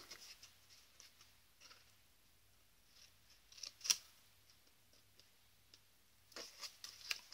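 Scissors snipping a gold snowflake vellum paper treat bag: soft, faint cuts spread sparsely through quiet, with a sharper snip near the middle and a quick cluster toward the end.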